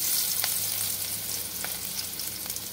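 Chopped garlic sizzles and fries steadily in hot white oil, a continuous crackling hiss with a few faint utensil taps, heard up close with no talking.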